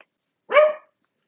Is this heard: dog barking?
yes